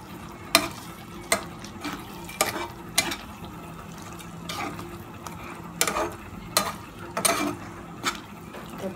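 Palm sugar is stirred in a pan, with a low sizzle under repeated sharp scraping and clacking strokes of a spatula against the pan at an uneven rhythm.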